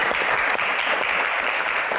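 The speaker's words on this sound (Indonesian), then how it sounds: "tepuk tangan untuk Bang Rano." An audience applauds for Bang Rano at a Jakarta political Q&A session, with dense steady clapping from a crowd filling the short clip.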